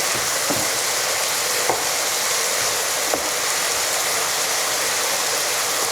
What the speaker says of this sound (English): Just give it a quick final stir.